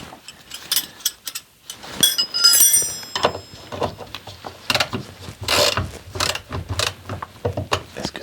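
A wrench works a rusty 13 mm nut on a Ford Mustang engine, giving irregular metallic clicks, ratcheting and clinks up close, with short pauses between bursts.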